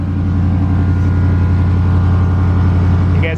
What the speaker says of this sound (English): You guys hear the compressor?